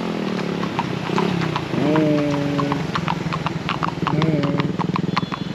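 Horse hooves clip-clop steadily on pavement in Baguio, a repeated sharp knocking close by, while people talk and someone speaks over it and a horse whinnies.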